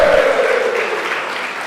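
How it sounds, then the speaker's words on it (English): A brief, steady burst of audience applause at a university gas challenge quiz event, filling the room with dense clapping. "A round of applause to them."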